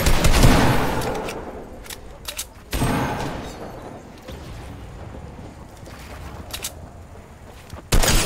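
Video game gunfire in a shooter match, with scattered sharp shots and short bursts, some loud and close, others quieter and farther off, with brief pauses between volleys.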